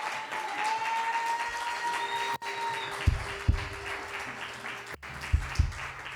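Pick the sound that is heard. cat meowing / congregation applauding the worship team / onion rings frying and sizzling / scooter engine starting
congregation applauding the worship team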